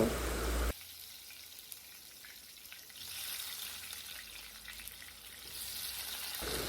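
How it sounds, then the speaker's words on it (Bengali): Potatoes fry in a pan, giving a quiet, even hiss of sizzling oil that swells slightly midway, following a short loud burst at the very start. "ওইদিকে আলুগুলো আমি ভেজে নেব"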